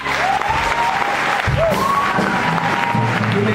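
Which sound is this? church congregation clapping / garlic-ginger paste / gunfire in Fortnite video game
church congregation clapping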